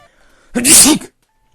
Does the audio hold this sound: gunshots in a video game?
no